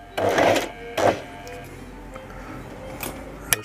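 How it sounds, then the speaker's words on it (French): A sewing machine sews the final seam of a pair of jeans in two short, close whirring bursts, then idles quietly with a faint click near the end. "Là, je fais la dernière couture"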